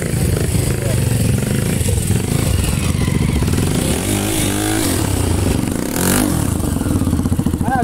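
Trail motorcycles rev hard on a dirt trail ride near Caruaru, Pernambuco, a loud continuous buzzing engine note with rising and falling throttle sweeps and clattering, close and dominant throughout.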